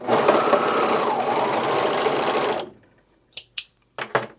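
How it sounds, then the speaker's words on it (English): Serger overlock sewing machine stitching a classic t-shirt: a loud, steady motor whir for about two and a half seconds, then it stops, leaving a few short clicks and handling noises. "Let's go along here and see how we are. Let's sew off here."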